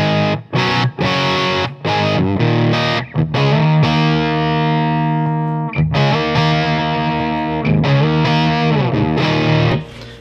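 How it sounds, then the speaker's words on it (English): Crunchy electric guitar played through an amp with an Xotic AC Booster pedal switched on at no added gain, chords struck and sustained in a loud, close riff with brief gaps between phrases. "now let's just kick on the AC in front of it without any gain or anything"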